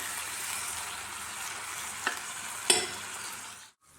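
Beetroot palya being mixed and sautéed in a pan gives a soft, steady sizzle with a couple of sharp spoon-against-pan scrapes, before cutting out to near silence at the end.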